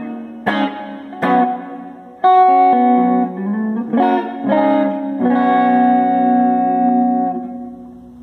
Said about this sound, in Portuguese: você tem esse reverb hall aí, ó